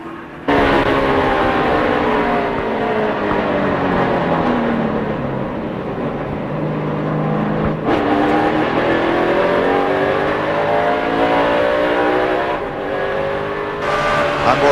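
2004 NASCAR NEXTEL Cup Series stock cars roar without a break at race speed, loud and close, their engine pitch sweeping as cars pass. No distinct crash impact stands out.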